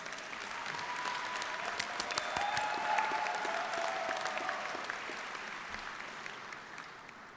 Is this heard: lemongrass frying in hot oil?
no